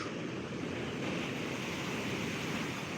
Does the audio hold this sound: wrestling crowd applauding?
no